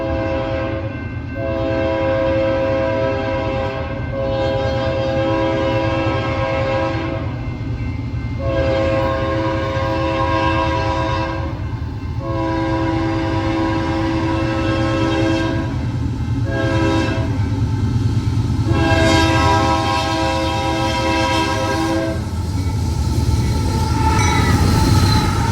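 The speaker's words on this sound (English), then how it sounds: "Soon after, ZLCLT arrived to Glendale Station with 7 locomotives, 5 up front and 2 in the rear." A very long Union Pacific freight train with seven locomotives, five leading and two pushing at the rear, passes at speed through Glendale Station, its horn blaring repeatedly in long loud blasts over a constant heavy rumble of rolling wagons.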